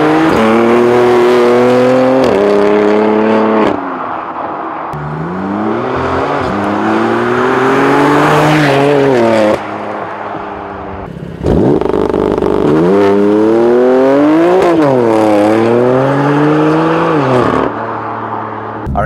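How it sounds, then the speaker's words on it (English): Sports car fitted with an Akrapovic exhaust, valves open, driving back roads, heard from the cabin: loud, continuous engine roar climbing and falling through repeated revs and gear changes, with a brief lift-off dip midway. "So right now we are on some back roads with this Akrapovic exhaust, and I don't know if you can tell from the cabin, it sounds unreal"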